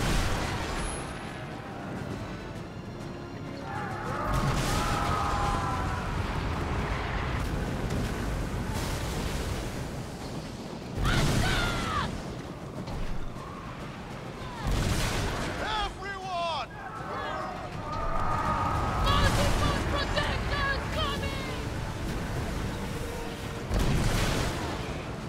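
Ship cannons firing in the Skull and Bones video game, heavy booming blasts in loose bursts over constant rolling ocean wash, with voices talking throughout.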